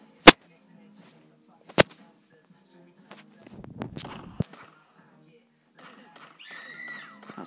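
Two sharp, isolated gunshots crack from the top-down online game Graal Era during a solo crypt round, spaced about a second and a half apart, followed by softer scuffling and muffled game noises.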